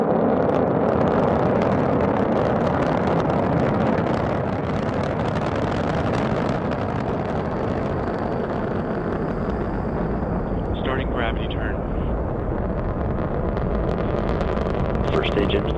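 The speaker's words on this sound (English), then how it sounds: "launch of the SpaceX Falcon 9 rocket" Continuous broadband roar of a SpaceX Falcon 9 rocket launching on a cargo resupply mission to the International Space Station, loud and steady for the whole stretch, with a voice speaking over it.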